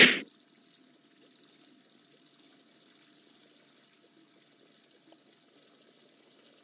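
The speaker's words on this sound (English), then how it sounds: "I think we just add water here." Water pours in a Roblox game as a brief burst followed by a soft, steady trickling hiss, faint and alone.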